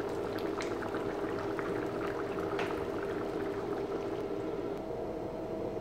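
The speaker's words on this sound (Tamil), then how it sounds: "இதை நல்லா கொதிக்க வைக்கணும்." A pot of tamarind curry with brinjal and drumstick steadily bubbling and simmering, a continuous thick burble with occasional small pops, close and even throughout.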